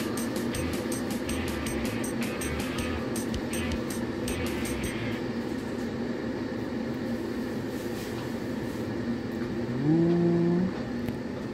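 Two electric kettles, one of them new, heat a litre of water each toward a boil, giving a steady, close rumbling hiss that swells slowly without pause.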